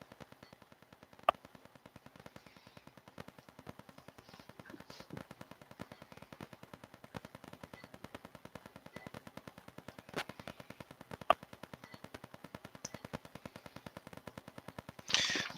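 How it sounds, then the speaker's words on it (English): A ceramic slow cooker simmering a pork roast gives off faint, steady bubbling pops that tick along evenly through a quiet room, with a few sharper clicks now and then. "like ceramic pot bubbling in the background"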